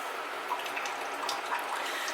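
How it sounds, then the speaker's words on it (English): Water poured into a cooking pot on the stove for corned beef and cabbage, a steady faint splashing trickle with small drips, continuous and close, no voices. "I'm going to put 4 cups of water here"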